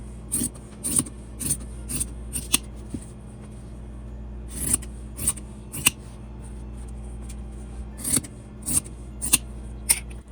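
Scissors cutting out square pieces of fabric along a marked line for sewing projects, a series of close, crisp snips in short bursts with pauses between, over a faint steady background hum, no talking.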